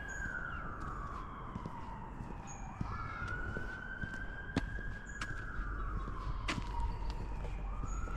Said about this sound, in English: There's always sirens here. Every video I make, there's a siren.